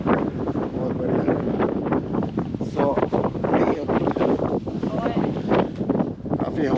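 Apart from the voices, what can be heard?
strong wind blowing in Himalayan Hattu Valley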